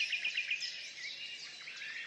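Songbirds chirp and trill in the quiet, vehicle-free Goëlo valley park, faint and somewhat distant, with a quick run of repeated high notes at the start over a soft layer of overlapping birdsong.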